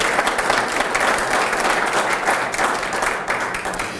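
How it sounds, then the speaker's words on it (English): A chamber of commerce meeting audience breaks into a round of applause, loud, even clapping from a roomful of people that fills the whole stretch without pause. "Let's give him a round of applause"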